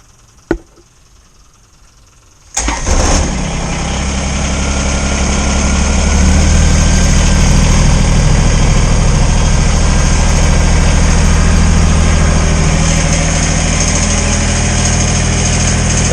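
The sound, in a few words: snow blower engine cold start and idling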